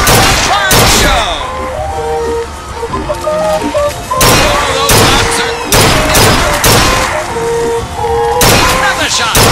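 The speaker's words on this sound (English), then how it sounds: "Another shot, right on the money." Repeated gunshots ring out at a carnival-style shooting gallery in BioShock Infinite, loud sharp cracks in uneven bursts layered over tinny fairground music and game effects.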